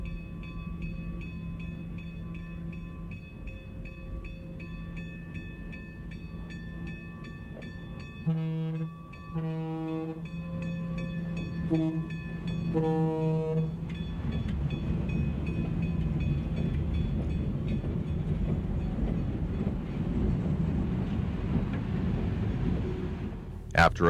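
Milwaukee Road electric locomotive E78 leads its train into Alberton at dusk, a steady low rumble building and swelling toward the end, with brief horn-like tones sounding midway.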